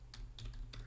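Keys on a computer keyboard are tapped in three quick, soft clicks spaced evenly apart over a quiet low hum, close up and faint.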